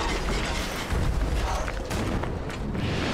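Cannon fire from a cannoneer enemy in the Barren Swamp of the video game Lies of P, heavy booming blasts over a dense, loud rumbling roar with no voices.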